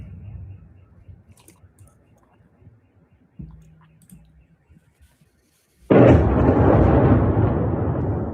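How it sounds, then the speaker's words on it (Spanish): After quiet clicks and low murmuring, a sudden loud blast from a Russian drone attack on a thermal power plant erupts and rolls on as a heavy, sustained roar. "Y las explosiones, lógicamente, también"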